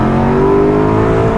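An Alfa Romeo 8C Competizione engine revs, a loud, close, continuous growl whose pitch climbs smoothly across the brief stretch, with no voices over it.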